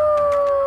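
Sled dogs at a dog sled tour base in Canmore let out a loud, steady howl, a short, sustained tone that is close and clear.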